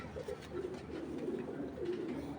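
Racing pigeons coo in a low, repeated murmur of soft throaty calls, close and steady throughout with no one speaking.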